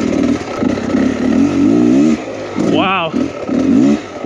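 A 2023 Beta XTRAINER 300 two-stroke enduro motorcycle being ridden, its engine droning and revving loud and close throughout, with a rider's voice exclaiming over it partway through.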